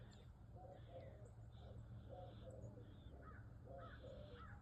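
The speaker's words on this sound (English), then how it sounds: "Hear that bird?" A crow caws repeatedly outdoors among pine trees and other trees, harsh calls coming in irregular bursts of two or three over a steady low background rumble, moderately distant.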